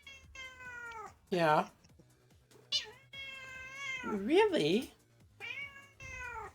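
Gaz, a female house cat, meows several times, loud and close, with one drawn-out, wavering cry, while a person talks briefly between her calls.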